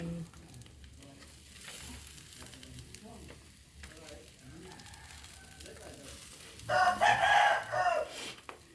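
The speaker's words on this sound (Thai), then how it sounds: "กำลังปิ้งไก่" Chicken grilling over a fire at breakfast time gives a steady crackling sizzle with soft scattered pops, swelling into a louder burst of crackle near the end.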